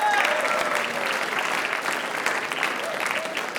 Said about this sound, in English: want to bring out and give a round of applause for